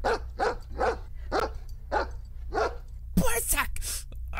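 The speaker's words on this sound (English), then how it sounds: "I like dogs, but I don't like disembodied scary dog sounds." Eerie disembodied dog barks from the video game Faithful Friend, a steady series of about seven sharp barks at an even rhythm, followed by a harsher, louder burst of snarling or growling near the end.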